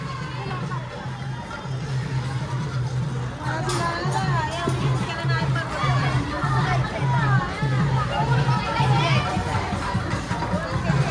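Crowd hubbub at Panvel Koliwada fish market, a steady babble of many voices with children's chatter and shouts, with a loudspeaker playing music through the busy scene.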